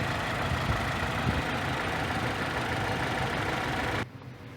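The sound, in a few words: 2004 Saturn Ion 2.2 Ecotec 4-cylinder engine idling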